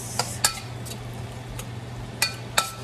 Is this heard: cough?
no